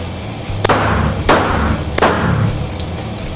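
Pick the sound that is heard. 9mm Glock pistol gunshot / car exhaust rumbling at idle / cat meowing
9mm Glock pistol gunshot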